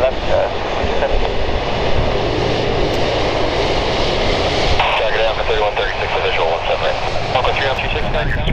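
An Air Transat Airbus A330-200 jet at Calgary Airport roars steadily and loud throughout, a dense continuous engine rumble and whine with a slight shift midway, as radio talk from air traffic control plays over it.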